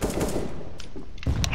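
Rapid gunfire from a tactical shooter match on the Inferno map, a steady burst of loud shots filling the first second, then a short gap before another heavy volley close by.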